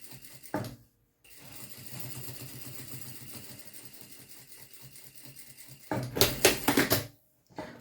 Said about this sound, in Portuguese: Eu uso mais ou menos quase um pé de máquina inteiro e faço essa costura.